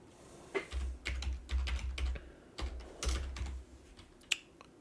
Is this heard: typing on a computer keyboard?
yes